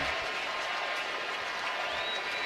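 Sellout crowd at Dodger Stadium during a tight late-inning Brewers–Dodgers baseball game, a steady broad wash of applause and cheering with faint whistles, continuous and fairly distant.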